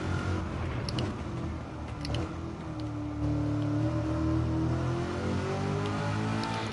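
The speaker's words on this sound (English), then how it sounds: "listening to those revs" A race car engine revving in Gran Turismo 7, a steady mechanical drone that climbs in pitch as the throttle opens, with the engine note rising and holding near the end.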